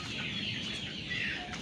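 Broiler chickens on a farm, 21 days old, clucking steadily in a close, busy flock as they eat feed, with no talking over them.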